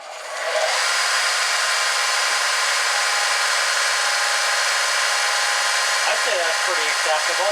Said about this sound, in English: I haven't fired it up yet. I got it plugged in. Let's see if it cooks.